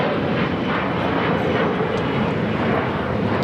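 Jet aircraft at Los Angeles International Airport, an A350-1000 bound for Doha nearby, producing a steady, loud broadband engine roar that holds constant throughout with no speech.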